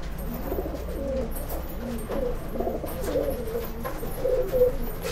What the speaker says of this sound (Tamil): ரெக்தரு, சப்ஜா, ரோஷன் இந்த மூணு புறாவையும் நம்ம தனித்தனியா பார்க்க போறோம